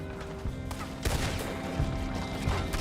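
Scattered gunshots in the Western video game Red Dead Redemption 2, sharp cracks popping at irregular intervals over a steady background of music and ambience, moderately loud, no talking.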